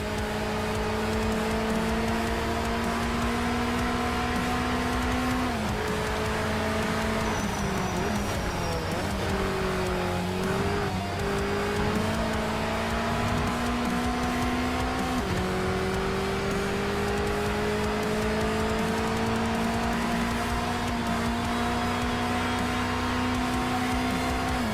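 Mazda MX-5 engine droning steadily through the cabin as the car drives, with pitch rising and dipping under throttle changes and a brief lift around the middle, continuous and fairly loud.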